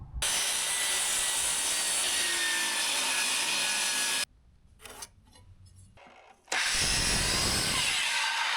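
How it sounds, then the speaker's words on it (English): Handsaw cutting through a long old wooden shelf to make trim, a steady loud rasping stroke that stops briefly mid-way with a few knocks and rubs, then resumes sawing alone. "I got to cut this long, nice old shelf from the hardware store to make trim out of it"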